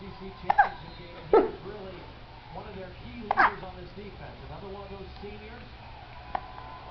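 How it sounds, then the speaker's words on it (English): A dog hiccuping, with a few sharp, separate jolts spaced seconds apart and a quiet human voice in the background. "You got the hiccups, buddy?"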